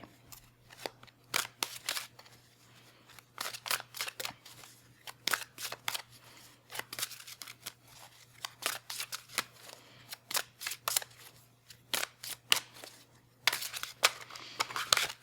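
Tarot cards being shuffled by hand in repeated quick bursts of crisp riffling and flicking, close and clear, with short pauses between bursts.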